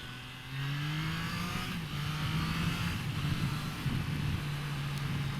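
A Triumph Trident 660 motorcycle with an A2 power restriction accelerates in second gear. The engine note climbs in a rising tone that then holds steady, heard from the rider's position with no speech.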